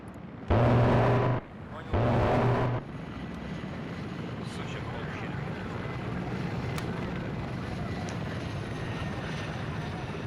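Helicopter rotor and engine noise in a military tactical video game set in a Finnish campaign, a steady mechanical drone running throughout with brief loud bursts of speech near the start.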